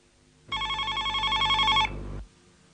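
Telephone ringing in a hospital drama scene, one trilling electronic ring burst lasting over a second, loud and close, then cutting off.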